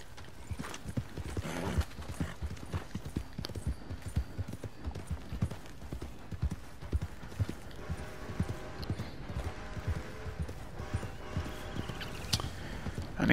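Horse hooves clip-clop steadily at a walking pace in a Red Dead Redemption 2 western town, close and fairly loud, with an occasional snort or whinny and no talking over them.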